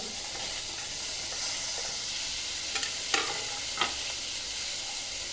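Cumin seeds frying in oil in a pan make a steady, close hiss and sizzle, with a few brief scraping stir sounds near the end and no voices.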